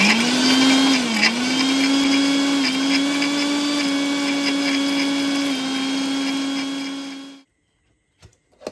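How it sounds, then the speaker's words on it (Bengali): Kitchen mixer grinder whirring steadily as it grinds cumin, ginger and dried chillies into a paste, a loud sustained motor whine with slight pitch dips, then it stops abruptly and only faint clicks follow. "মিক্সিতে একসাথে জিরে, আদা আর শুকনো লঙ্কা দিয়ে মিক্সিতে পেস্ট করে নিতে হবে।"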